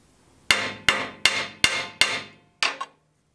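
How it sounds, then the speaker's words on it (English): Hammer blows flatten a patch of sheet metal during a small-hole repair with a MIG welder: six sharp, ringing metallic strikes at a steady pace, close and loud, the last one slightly doubled, with no talk. "I'm going to give you a hammer and hammer that flat real quick"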